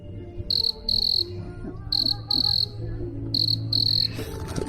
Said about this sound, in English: There's crickets now.